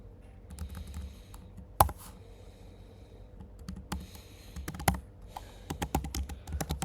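Python code being typed on a computer keyboard: bursts of close, crisp key clicks with short pauses between runs and occasional louder strikes, with no voices.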